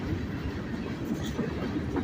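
A freight train rumbles steadily beneath Main Street in Greenwood, South Carolina, a continuous low roar of rolling cars with faint clatter, fairly near and alone without talk.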